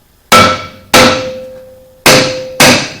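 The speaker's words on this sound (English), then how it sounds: "Usually just take a hammer, give it a couple of hits." Four loud metallic hammer blows ring out on a Chevy Silverado rear brake drum to free it from the axle, each clang decaying with a sustained ring before the next strike.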